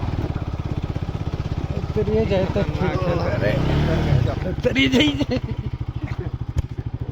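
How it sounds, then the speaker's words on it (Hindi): A motorbike engine labours steadily up a steep jungle path, its low throbbing drone close and continuous with a brief strained surge midway, while people talk over it. "हम लोग बाइक से ही आगे चल रहे हैं"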